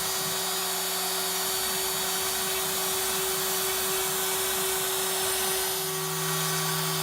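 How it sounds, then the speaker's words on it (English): A CNC machine drills fret marker dot holes in a guitar fretboard, a steady whining hum with a faint repeating pulse of the cutting bit beneath it, fairly quiet and without voices. "Then I'll switch to a slightly larger bit to drill the holes for the fret marker dots."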